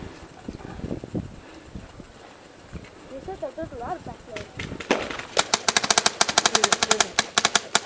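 Paintball markers firing during an outdoor paintball game, heard as scattered shots that build into a rapid, loud volley of pops near the end, with players shouting over wind noise.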